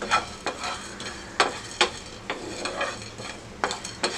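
Green chillies roasting with whole spices in a hot pan for a tangy tomato chutney, with steady sizzling and repeated scraping stirs of a spoon against the pan, close and clear with no talking.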